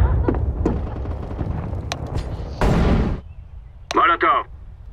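A flashbang grenade goes off in the CS:GO shooter game, a sharp burst and bright noisy blast mixed with gunfire-like pops and game effects, with a voice speaking over the action.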